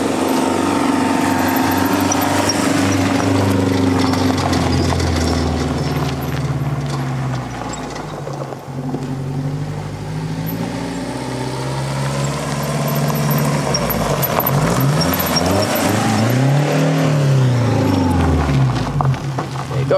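A loud, rough diesel engine of a Mercedes-Benz W210 220D (OM604) with its muffler removed drones and revs with a harsh, rumbling, unmuffled tone, swelling and falling in pitch.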